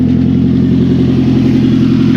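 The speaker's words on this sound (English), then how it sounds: "Got one heck of an exhaust leak," A 1999 Toyota Celica GT with a 2.2 engine and 5-speed manual runs close by with an exhaust leak from a loose exhaust manifold, a steady, loud, rough rumble with a raspy, chuffing edge.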